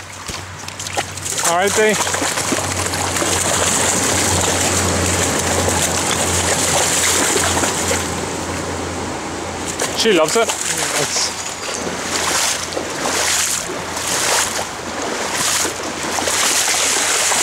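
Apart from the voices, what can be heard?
dog splashing in a river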